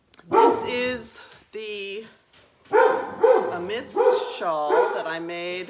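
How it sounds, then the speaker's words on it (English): A pet dog barks and yips in short bursts, its little tag jingling, mixed in with someone talking nearby indoors. "That's my dog shaking his little tag and barking."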